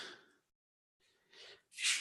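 A single person sneezes indoors in a quiet room, a soft breathy intake followed by a short, sharp burst, close and brief with no talk around it.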